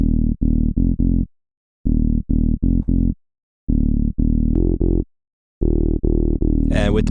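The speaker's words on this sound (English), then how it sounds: "Bass jamming is a deep saw bass with a really high resonance" A deep, resonant saw-wave bass synth plays a house bass line in short chopped phrases separated by brief gaps, loud and dry with a squelchy high-resonance filter sweep near the end.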